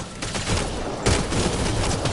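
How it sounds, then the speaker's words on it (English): Rapid gunfire in the Mass Effect Andromeda video game: a dense, continuous fusillade of loud shots that swells partway through, with no voices over it. "They shot him!"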